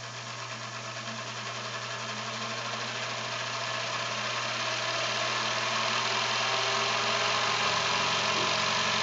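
A Topaz model engine on its first run, driven by compressed air at around 15 to 25 psi, gives a continuous fast mechanical chatter that holds steady and grows slightly louder, heard alone without talk.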